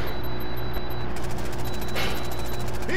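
A helicopter carrying an enemy team in a video game is shot down with a JOKR launcher: a steady rotor drone under rapid bursts of gunfire, with a sharper impact near the middle and the firing continuing afterward.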